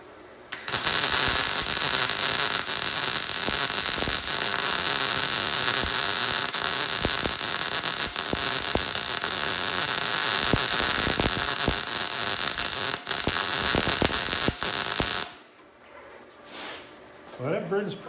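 A wire-feed welder runs on an automotive restoration job, a loud, steady crackling buzz with sputtering pops for about fifteen seconds before stopping, followed by quieter shop noise.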